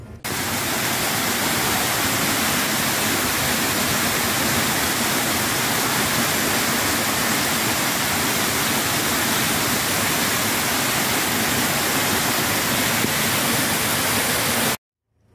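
Heavy water from a dam reservoir in Mombaça roars in a loud, continuous broadband rush with no pauses, close by and steady until it cuts off abruptly at the end.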